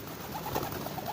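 A homing pigeon arriving at its loft coos softly, a few low, rounded notes close by over faint background noise.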